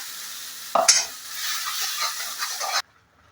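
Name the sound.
roasting peanuts and chillies in oil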